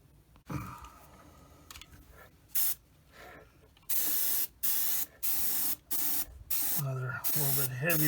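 Acrylic paint sprayed on in a heavier coat, a series of sharp loud hissing bursts of varying length in quick succession, with some quieter handling noise and a low voice briefly in between.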